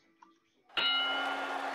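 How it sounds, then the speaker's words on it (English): A boxing ring bell clangs once to open round one of a heavyweight bout, a bright metallic ring that sustains and slowly fades, after a faint tick beforehand. "here's the bell for action in round number 1."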